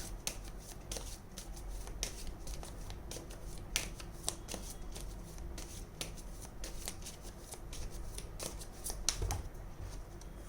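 Tarot cards are handled and laid out, with crisp flicks and light slaps repeating irregularly at close range in a quiet room.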